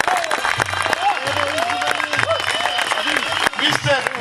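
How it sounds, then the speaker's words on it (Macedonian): Audience applause at a dog show ceremony honouring the FCI president, a dense burst of clapping from a crowd indoors, lasting throughout, with a voice speaking over the claps. "Ве молам еден аплауз"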